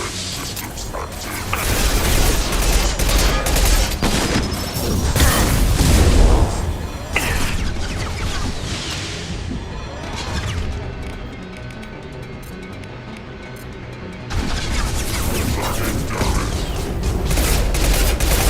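Gunfire in the video game Mass Effect 2: a dense, loud clatter of shots and heavy booms mixed with mechanical game sounds, easing off briefly midway before surging again, with occasional voices in the mix.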